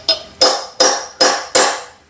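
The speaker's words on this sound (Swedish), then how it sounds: "Jag hade en liten hammare. Jag kan knacka till på de topparna där lite försiktigt bara." A small hammer taps gently on the tops: five crisp metallic knocks, evenly spaced about a third of a second apart, each ringing briefly before fading, close and alone.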